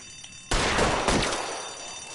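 A loud gunshot burst from a shootout in the L.A. Noire video game erupts suddenly after a quiet moment, followed by further shots and a slowly fading reverberant tail.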